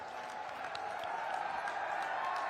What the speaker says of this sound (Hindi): दोनों हाथ ऊपर उठाकर जोरदार ताली बजाकर